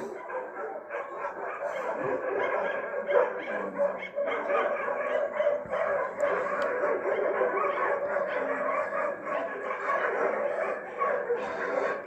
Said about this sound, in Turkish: Kendi aralarında da gördüğünüz gibi kavga var. Mahallenin tüm köpekleri.